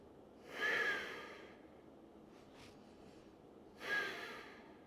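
Two slow, deep breaths taken while holding an intense yoga stretch, each a soft, airy exhale rising and fading in a quiet room, spaced a few seconds apart.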